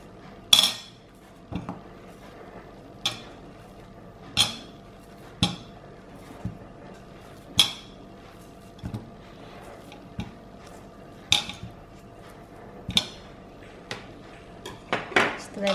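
Knife cutting a peeled banana into pieces on a board in a home kitchen, about a dozen sharp, evenly spaced taps with no talk.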